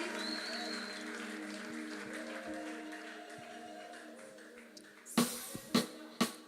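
Church congregation during worship, sustained voices and music fading beneath a few sharp bursts of clapping near the end, fairly faint and distant.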